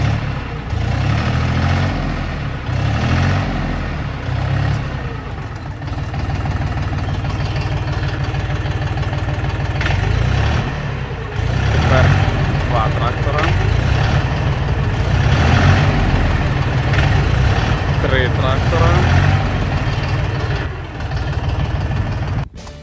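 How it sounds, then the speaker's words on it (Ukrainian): Dongfeng 244 mini tractor with a KM385 diesel engine running steadily, a loud, continuous low diesel rumble with rhythmic knocking that holds near and constant throughout. "Порівняємо із Донфенгом 244 З мотором теж КМ 385."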